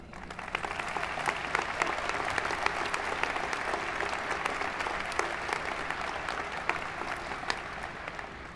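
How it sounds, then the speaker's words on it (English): Audience applauding at a high school graduation ceremony, a steady field of clapping with individual sharp claps standing out, sustained evenly at a moderate distance. "Let's get a round of applause for all the parents in the room tonight."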